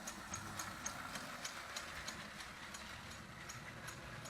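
A reconditioned Marx toy train set with a chug-chug sound unit, running on a 25-watt transformer, gives a steady mechanical whir with soft, regular chuffing pulses at an even pace, fairly faint.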